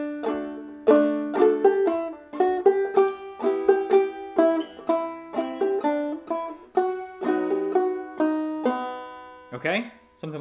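A clawhammer banjo plays Greensleeves in a straight, unsyncopated rhythm, with steady bright plucked notes over a ringing drone, close and alone, ending with a brief sliding noise.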